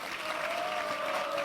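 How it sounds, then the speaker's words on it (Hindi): Audience applause following a Krishna Janmashtami devotional drama at an ISKCON festival, a steady wash of clapping held at even loudness throughout, with a faint sustained tone running beneath it. "एक बार जोर से तालियां"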